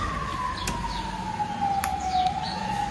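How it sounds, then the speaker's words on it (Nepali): An ambulance siren wails steadily in the open, a continuous rising and falling tone held throughout over low road and traffic rumble, moderately loud and unbroken by talk. "अन्त एम्बुलेन्स यता पनि एम्बुलेन्स"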